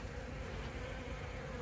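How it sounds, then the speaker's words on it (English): Angry honeybees swarming around an open top feeder on a hive, a dense, steady close buzz filling the air without pause and with no voices. "I've got some mad bees right now."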